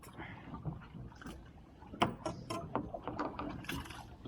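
A fishing reel is wound in on a boat while fishing for bluefish, giving a close, continuous mechanical ratcheting and gear whir with irregular clicks and knocks and some faint background sounds.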